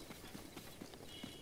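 Horse hooves clip-clop at a steady trot in The Legend of Zelda: Breath of the Wild, rhythmic footfalls under a loud, dense wash of game sound and ambience.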